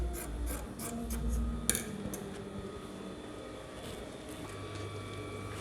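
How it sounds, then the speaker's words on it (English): Scissors cutting fabric and lining for an Aso-Ebi cap, a close rasping, rubbing snip with a few sharper clicks of the blades, quiet and steady with no talking. "So I've cut both lining and fabric."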